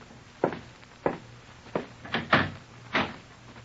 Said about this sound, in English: Open the door, will you, Miss Costello?